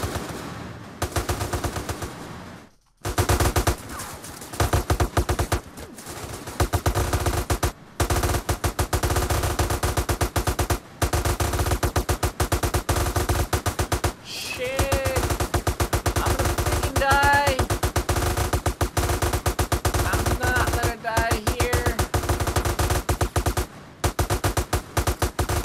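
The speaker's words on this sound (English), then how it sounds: "That gunfight was pretty hectic." Sustained machine-gun fire in a GTA San Andreas DYOM mission: dense, rapid bursts of automatic gunfire with brief pauses, loud and continuous throughout, with faint game sounds weaving through the shooting.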